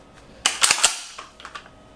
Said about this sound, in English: I can do this cool guy pump action thing.